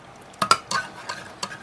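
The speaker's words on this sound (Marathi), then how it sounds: "असं चम्मचच्या साहित्यानं घोटून घ्यायचं." A spoon stirs and presses a thick spinach and gram flour mixture, making a few soft close scrapes and light clinks against the bowl in a quiet kitchen.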